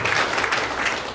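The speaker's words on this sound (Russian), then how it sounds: "Вам аплодисменты тогда." Brief burst of audience applause after a speech at a Belarusian political gathering, fairly loud and continuous, with no talking over it.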